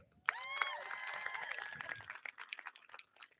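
Distant, faint applause rises from the crowd at the Gavilan College commencement ceremony to honour the board president. A few rising whistles ring out at the start, and scattered crinkly claps thin out toward the end.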